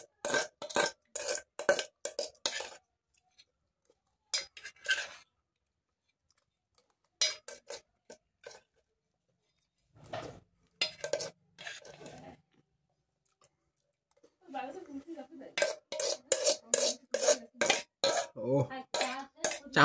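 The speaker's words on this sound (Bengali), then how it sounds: "চামচ দিয়ে কেকড়াইতেছি এখন" A metal spoon clinks and scrapes inside a pot in repeated bursts of quick, close, bright strokes, separated by pauses. Speech is heard now and then between the scraping.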